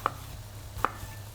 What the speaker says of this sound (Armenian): Լոլիկը մանր ենք կտրատում։